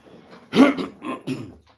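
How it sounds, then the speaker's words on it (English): A throat clearing with a couple of rough, guttural bursts close to the mic, with no speech around it. "clear my throat"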